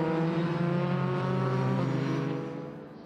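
A Formula 3 race car, the Mücke Motorsport number 6 in the FIA F3 European Championship, screams past with a loud, harmonic-rich engine note held at high revs before fading away near the end.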